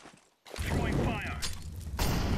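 Incendiary grenade in CS:GO, a sharp pop after a short quiet gap, then a loud, sustained burst of crackling fire and mechanical clatter that stays dense to the end, with a voice briefly under it.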